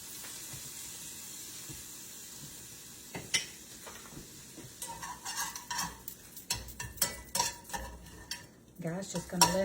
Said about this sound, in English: just gonna let this cook up. Let that taco seasoning infuse into that pork with that lime juice.